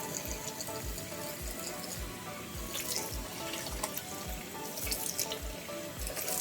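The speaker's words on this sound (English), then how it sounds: "I am using strictly cold water" Cold water runs steadily from a bathroom sink tap while someone splashes it onto their face, a continuous close rush broken by repeated wet splashes and drips.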